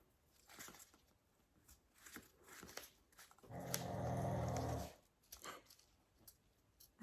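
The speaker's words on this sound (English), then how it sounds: "can you guys hear that? A poor dog." Dog growling and whimpering faintly in the distance, a sustained low droning growl for about a second in the middle, surrounded by soft scattered taps and rustles, quiet and far off.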